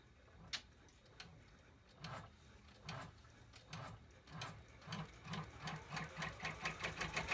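An embroidery machine stitches an in-the-hoop wallet, a fast rhythmic mechanical ticking that starts sparse and builds into a steady, close, repeating stitch pattern with no talking.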